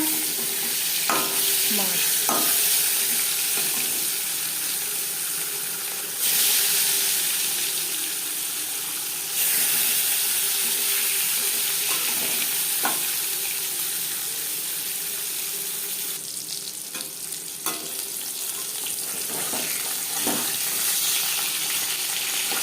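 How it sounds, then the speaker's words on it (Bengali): Steady crackling sizzle of rohu fish frying in hot mustard oil, continuous and fairly loud, with occasional soft clinks and scrapes of a utensil. "মাছ ভাজা হয়ে গেছে একটা পাত্রে উঠিয়ে নেবে"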